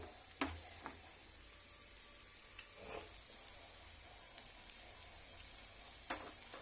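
Onions frying in hot oil in a home kitchen pan, a steady soft broadband sizzle with occasional stirring clicks and spatters, fairly quiet and continuous with no voices.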